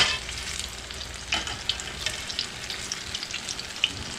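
Banana fritters just flipped sizzle steadily in a hot pan, a dense continuous frying hiss with a few sharper crackles and spatters standing out, no voices.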